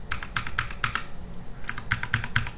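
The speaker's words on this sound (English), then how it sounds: "Can you hear me pressing the keys?" Computer keyboard keys pressed while using a terminal program, heard as two clusters of crisp, close clicks with a short pause between them, with no talking.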